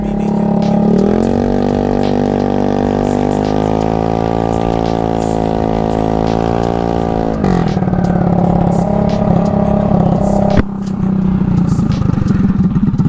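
A Honda Ruckus scooter runs loud and close as it rides down a street, its small engine droning steadily, rising in pitch, then dropping back, with some rattling and clatter throughout.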